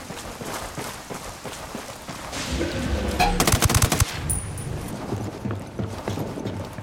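Rapid automatic gunfire bursts in the tactical shooter game Ghost Recon Wildlands, loud and close, building into a dense volley mid-clip over a continuous rumbling game soundscape.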